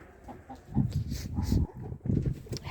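Chickens at a dacha cluck in low, short bursts close by, several soft calls scattered through a quiet outdoor setting.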